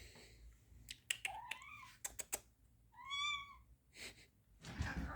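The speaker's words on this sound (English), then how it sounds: "I've got a few cats in here now." A small ginger cat meows once at close range, a rising harmonic cry, amid scattered sharp clicks and taps on an electronics workbench, with a brief rustling burst at the end.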